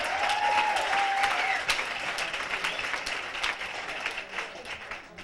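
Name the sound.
audience applause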